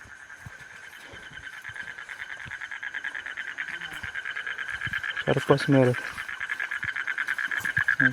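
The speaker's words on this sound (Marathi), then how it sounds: "बेडकाचा आवाज बघा कसा ओरडतो बेडूक" A steady, pulsing chorus of croaking frogs fills the background during crab hunting in the Konkan, with a voice speaking briefly partway through.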